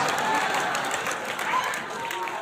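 An audience claps at a Hindi poetry recital (kavi sammelan), a dense, fairly even patter of many hands at moderate distance lasting a couple of seconds with a faint murmur underneath.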